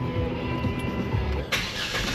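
A Jeep engine cranks and catches, then settles into a loud, close, steady running rumble with a brief surge as it fires.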